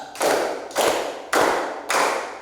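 Four sharp, even claps in a slow steady rhythm, each ringing briefly in a roomy space, with no talk.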